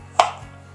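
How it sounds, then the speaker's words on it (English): A single knife chop through tomatoes on a cutting board, one short, sharp knock in otherwise quiet surroundings. "we're just going to run our knife this way until we have these perfectly little diced up tomatoes"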